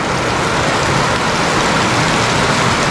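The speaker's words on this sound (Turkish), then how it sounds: "Yağmur dün geceden beri sürekli yağmaya devam ediyor." Heavy rain pours down steadily during an ongoing flood, a dense, loud, continuous hiss of water with no talking.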